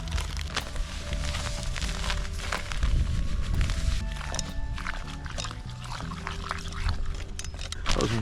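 Water pouring into a breadcrumb groundbait mix for river fishing, a continuous splashing and gurgling pour lasting several seconds, close and fairly quiet, with faint background noises and no talk.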